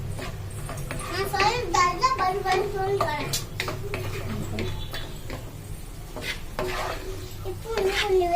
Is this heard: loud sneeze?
no